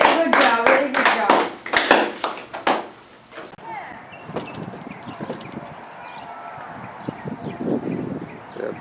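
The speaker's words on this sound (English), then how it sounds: "can you clap for your friend?" A group of children on a playground claps for a friend in a few loud, sharp bursts of hand claps, then the clapping thins into faint scattered pats with voices talking in the background.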